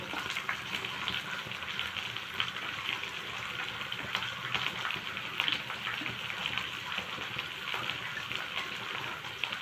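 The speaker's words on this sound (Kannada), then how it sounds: "ಇದನ್ನು ಸ್ವಲ್ಪ ಚೆನ್ನಾಗಿ ಫ್ರೈ ಮಾಡ್ಕೊಳ್ಳೋಣ ಈರುಳ್ಳಿನ" Chopped onions sizzle and fry steadily in hot oil in a home kitchen pan, a continuous crackling hiss close to the microphone with no talking, the frying constant for the whole stretch.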